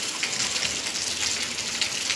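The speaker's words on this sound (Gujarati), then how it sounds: "તો કઈ જશો વરસાદ ચાલુ છે" Steady rain falls in a village during the monsoon, a dense continuous hiss of drops striking surfaces and water, close by and fairly loud with no voices.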